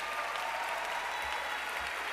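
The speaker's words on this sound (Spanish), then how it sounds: "un fuerte aplauso, por favor, de todo nuestro auditorio" A crowd at a medical excellence award ceremony applauding steadily, a continuous even patter of many hands clapping at moderate volume with no pauses.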